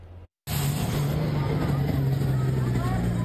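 Fire trucks pull up to a house fire on a residential street, a loud continuous engine rumble and road roar that starts abruptly after a brief gap and holds steady, heard close.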